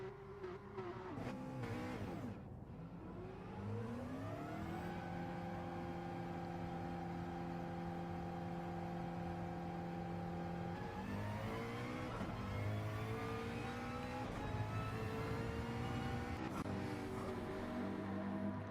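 A pack of race cars pulls away together from the start at Barcelona in Gran Turismo 7, engines revving and whining as the pitch climbs through the gears, a sustained loud layered drone with a rise after a shift near eleven seconds.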